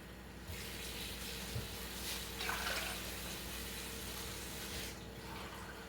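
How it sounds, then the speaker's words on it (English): Cups of water are poured into a cooking pot of meat for dinner, a faint, steady splashing wash lasting several seconds with a couple of brief louder pours, no talk over it. "Couple more cups of water."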